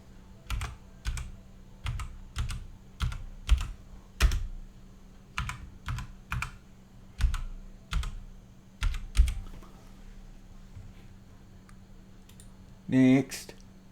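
Keys clatter on a computer keyboard while a name is typed during virtual machine setup, about a dozen separate clicky bursts in an uneven rhythm, close and clear, with a brief mechanical rattle near the end.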